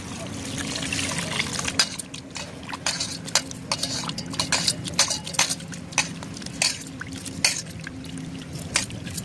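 Water trickles and splashes in uneven bursts as prawns are rinsed by hand for curry, with soft clatters and drips throughout.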